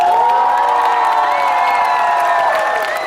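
A crowd of children cheers, shouts and whoops at a school's annual concert. The sound is a loud, dense, sustained roar with shrill voices rising above it throughout.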